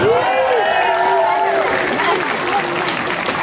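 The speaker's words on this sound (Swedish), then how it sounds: "stor applåd" Audience applause at a youth race award ceremony for the Kretsloppet run in Borås, a steady crowd clapping throughout with a voice speaking over it.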